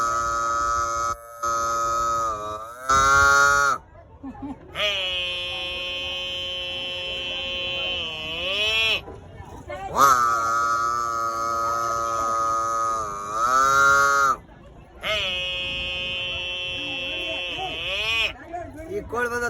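A man at a fair imitates a buffalo with his voice, giving long, drawn-out lowing calls with wavering pitch, repeated several times with short pauses between them.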